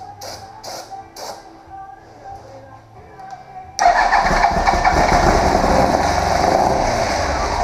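A 2001 Yamaha YZF R1 motorcycle engine, choked, cranks with a few starter bursts, then catches and runs loud and steady, roaring up close.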